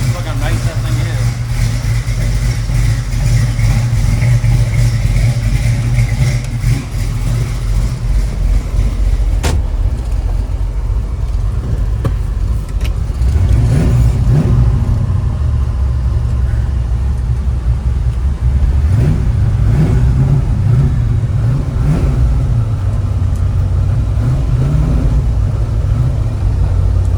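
A 1966 Chevy Nova with a built small-block V8 and 4-speed manual, engine rumbling loud and close while driving, revs rising and falling through shifts, with someone talking over it.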